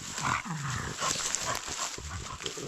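Dogs on a mountain walk in the Carpathians give short, scattered yelps and whines that blend with rustling outdoor noise.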